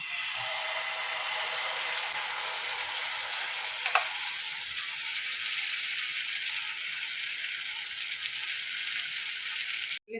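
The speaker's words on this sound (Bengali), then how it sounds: "ওটসের যে ব্যাটারটা গুলেছি এটা এর মধ্যে দিয়ে দেবো" Oats batter sizzles on a hot griddle greased with a little white oil, giving a steady, fairly loud frying hiss that continues unbroken, with a brief clatter near the end and no talk.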